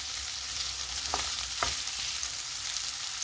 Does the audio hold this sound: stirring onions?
yes